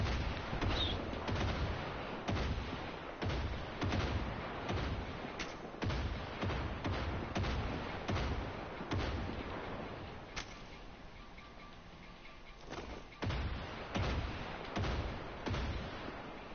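Mortar and artillery fire in the shooter Far Cry 5 thuds out as a steady series of sharp, booming reports about a second apart, loud and close, with a short lull before the barrage picks back up.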